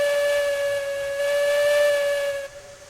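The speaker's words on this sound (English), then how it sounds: "I love that we can play around with the whistles on these." A steam locomotive whistle in Railroads Online blows one steady, loud, sustained tone with a hissing edge for nearly three seconds, then cuts off abruptly.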